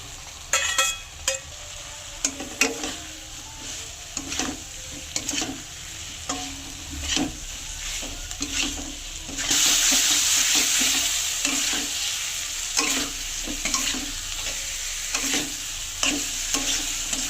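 Fried cauliflower is stirred into sizzling masala in a pan for cauliflower korma, with repeated scraping strokes over a constant frying hiss that grows louder partway through.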